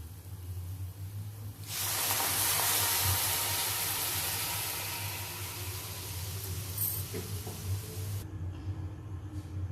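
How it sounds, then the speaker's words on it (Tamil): Milk poured into carrots cooking in a pan for carrot halwa sets off a sudden loud hissing sizzle that holds for several seconds, fades, then cuts off, over a low stove rumble. "இப்ப பால் விட போறேன். இந்த பால்லயே அந்த கேரட் வேகணும்."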